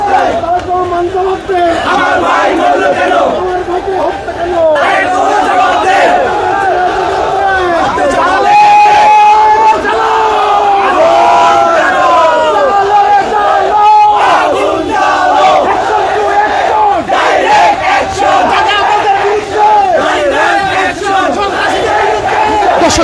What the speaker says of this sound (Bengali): জগন্নাথ বিশ্ববিদ্যালয়ের শিক্ষার্থীরা যারা রয়েছেন তারা কিন্তু রাস্তায় নেমে এসেছেন এবং তারা কিন্তু বিভিন্ন স্লোগানে কিন্তু সামনের দিকে কিন্তু এগিয়ে যাচ্ছেন